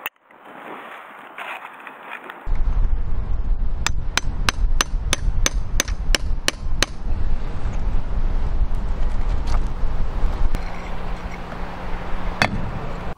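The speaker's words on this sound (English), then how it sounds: "it was time to remove the old sand and cement render from around the broken pot" A hammer and chisel chip old sand and cement render off a chimney around a broken chimney pot in a quick regular run of sharp taps, then a few scattered knocks, against steady wind noise outdoors.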